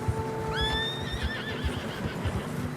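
A horse in Red Dead Redemption 2 whinnies once, a rising then falling call, over steady rhythmic hoof thuds plodding through fresh snow with a low background hum.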